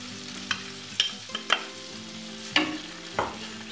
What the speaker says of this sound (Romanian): Într-o tigaie voi pune untul să se topească, apoi voi pune pesmetul.